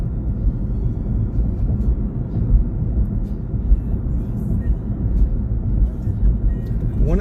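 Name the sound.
car driving through Gilbert, Arizona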